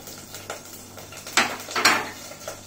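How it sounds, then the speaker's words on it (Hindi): Crushed almonds and cashews drop into a hot pan with cinnamon and cardamom, giving a few sharp clatters and scrapes of metal cookware over quiet background, with a couple of louder rattling bursts near the middle. "गरम होते ही दालचीनी और इलायची डाल देते हैं, और कुटी हुई बादाम और काजू डाल देते हैं"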